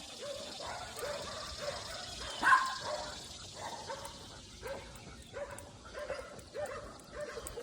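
A neighbor's dogs bark in a loose, irregular sequence of yaps and woofs at moderate distance, with one sharper bark standing out among fainter ones over quiet background noise.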